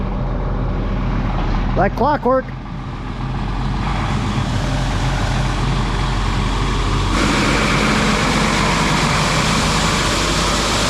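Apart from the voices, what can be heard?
truck pulling in and idling in a field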